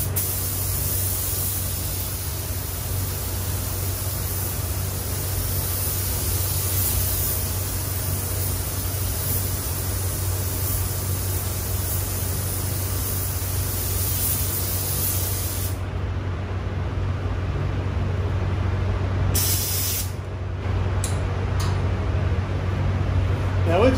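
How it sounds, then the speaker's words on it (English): A spray gun lays a coat onto a BMW panel in a paint booth, a loud, steady hiss that runs unbroken for about sixteen seconds, then cuts off, followed by a few short bursts. "So I'm going to put one coat of this on there and then we're going to spray the color on there."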